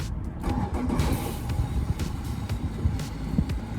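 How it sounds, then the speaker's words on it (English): A boat's outboard engine is started and settles into a loud, steady running rumble close by, with no talking. "Just get the engine started."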